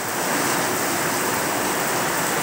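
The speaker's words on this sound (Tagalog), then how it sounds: "sobrang laki na po ng alon" Big ocean waves surging against the coast in stormy weather, a continuous loud roar of surf and spray with no pauses and no voices.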